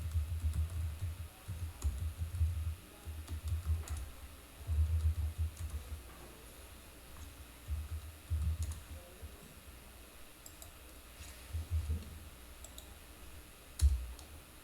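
Keys on a computer keyboard click in short irregular bursts during a database setup, close and fairly quiet, with pauses between runs of typing.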